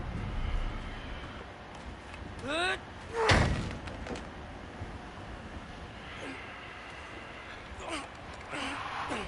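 A frozen door in God of War Ragnarok is forced open: a few brief creaks, then one loud heavy thud and slam, followed by quieter scraping, with talk and grunts around it.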